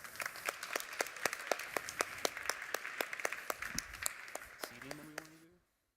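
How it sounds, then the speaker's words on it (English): Applause at a conference panel as panelists are welcomed to the stage, a small audience clapping at fairly low volume with distinct individual claps in a steady patter, then a voice cuts in briefly before the sound stops abruptly. "So please give a round of applause and welcome them to the stage."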